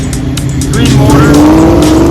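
A Mercury Cougar classic car accelerates at an outdoor car meet of classics, muscle cars and hot rods, its engine note rising steadily and loud, with voices talking around it.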